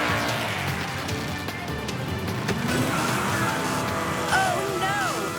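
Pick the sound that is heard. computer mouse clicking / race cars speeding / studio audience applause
race cars speeding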